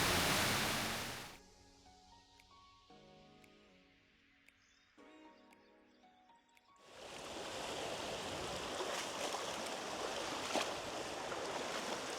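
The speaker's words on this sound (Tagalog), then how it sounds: "So, tatawid tayo ng ilog, mga kaibigan." River flowing at Camp Payapa in the mountains of Real, Quezon, a broad steady rush of water that fades to quiet for a few seconds, then returns loud and continuous.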